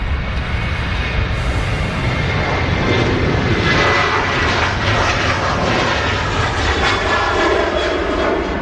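An airliner on final approach at Manchester Airport roars loudly and steadily overhead, a broad, constant engine rush that swells slightly toward the middle and holds to the end.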